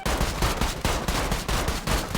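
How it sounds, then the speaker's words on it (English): Rapid bursts of automatic gunfire crackle almost continuously in a roleplay video game during a material theft event, loud and dense with brief gaps between volleys. "God, they're already shooting me up here."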